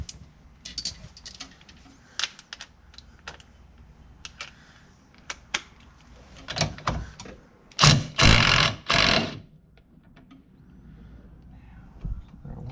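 An impact wrench works a 21mm lug nut loose on a Jeep TJ wheel during a wheel install: scattered clicks and clanks of tools, then three loud, close bursts of hammering rattle in quick succession.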